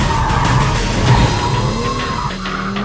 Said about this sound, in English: In M mode, it's even more of a tyre-smoking mentalist.